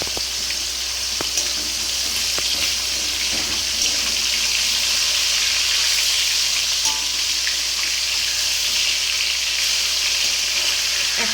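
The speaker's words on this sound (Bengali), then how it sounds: "আর এদিকে কিন্তু কাতলা মাছটা ভাজা হচ্ছে।" Catla fish fries in hot oil with a steady, close, even sizzle and spatter that runs unbroken throughout, with no talking.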